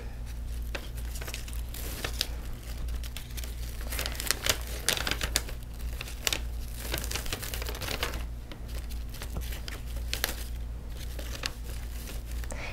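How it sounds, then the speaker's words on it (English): Ribbon crinkling and rustling steadily while it is evened out and tied into a bow on a favor bag, with close, continuous crumpling and light ticks throughout and no talking. "Go ahead and even out your ribbon, and then you're just going to make a bow."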